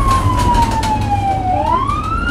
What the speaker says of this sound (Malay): Dengar bunyi siren kan?